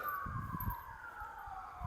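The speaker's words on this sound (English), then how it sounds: "police sirens are loud today" Police car siren wailing in the distance during a disc golf round, a faint steady rising and falling tone under low rumbling background noise.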